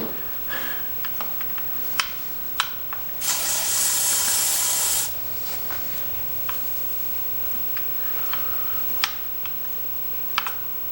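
A single sustained hiss of aerosol spray goes into a rare 1940s Lawson two-horsepower engine that has sat for 40 years without compression, about two seconds long, with sharp clicks and taps from the engine work before and after it.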